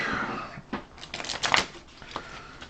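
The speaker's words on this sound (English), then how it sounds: "And let's shuffle the encounter deck." A deck of encounter cards for the Marvel Champions card game shuffled by hand, with several quick riffling and snapping bursts close to the microphone and a soft papery rustle between them.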